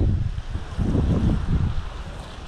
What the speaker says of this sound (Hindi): अभी बस हवा चल रही है